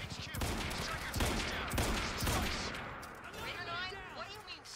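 Video game gunfire from Quantum Break: a rapid burst of several sharp, loud shots over the first half, followed by softer whooshing effects, with a voice talking faintly underneath.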